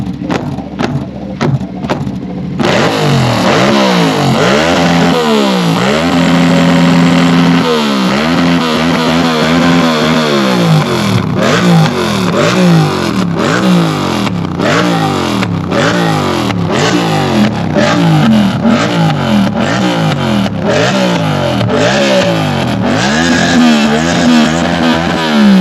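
A Yamaha R7 sport motorcycle with an SW Motech exhaust, heard from about four metres away, starts then revs hard again and again, loud rising and falling engine sweeps over a rough idle with no talking.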